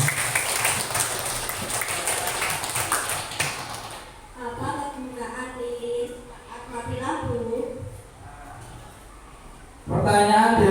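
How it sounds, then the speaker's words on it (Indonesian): Classroom applause for a student, a burst of clapping in a school lesson, followed by children's voices talking and a second burst of clapping starting near the end. "Tepuk tangan dulu buat Nabila."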